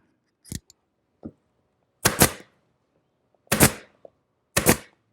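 Upholstery material, with leather and welt cord nearby, is trimmed on a cigar chair in a woodworking shop: five sharp, crisp cuts spaced over a few seconds in otherwise quiet surroundings, with no talking.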